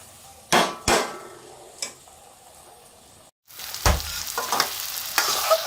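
Potatoes and eggs frying in a wok, with sharp clanks of a utensil stirring against the pan followed by a steady hiss of sizzling oil, fairly close.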